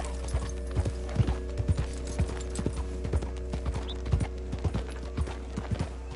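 Steady horse hoof clip-clops at a walking pace in Red Dead Redemption 2, crisp and close, over a low constant hum with faint mechanical clicks.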